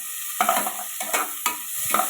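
Onion, green chili and curry leaves sautéing in a pan, with a steady close sizzle broken by four sharp scraping stirs at regular intervals, no talking.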